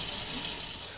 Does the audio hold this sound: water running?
yes